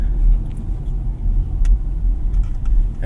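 A 2024 MG4 EV Standard electric car accelerates hard, giving a steady low road rumble and wind noise throughout, close and fairly loud with no talk.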